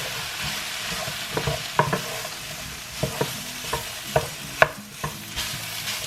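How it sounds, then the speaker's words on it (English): Leeks and a sprinkling of plain flour cook in a pan, with a low steady sizzle under irregular scraping knocks of a spoon stirring them through. "I'm just going to stir my leeks back through, and I'm now going to get a couple of large spoonfuls of plain flour and just sprinkle that over"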